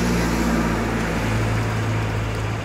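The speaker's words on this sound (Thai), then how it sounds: "เดี๋ยวสั่งสตาร์ทที่หัวให้ดูนะครับกด2ครั้ง" A 2015 Honda PCX scooter engine, started by remote alarm, idles with a steady, close low drone and a constant hum for the whole stretch.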